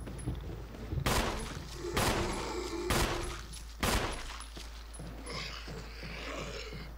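Several loud, sharp gunshots ring out at roughly one-second intervals in Resident Evil HD Remaster, each with a short echoing tail over a low game ambience, followed by quieter rustling.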